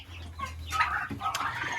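Chicks and poultry cluck close by around a feeder, with a few overlapping calls and some rustling over a low background rumble, with no talking.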